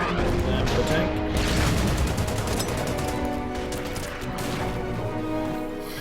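Artillery and a tank attacking in the wartime strategy game Order of Battle, set in the Blitzkrieg-era Dunkirk campaign: dense, continuous bursts of gunfire and crashing impacts, loud and sustained, with a voice talking over them.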